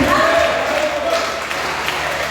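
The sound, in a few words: congregation clapping hands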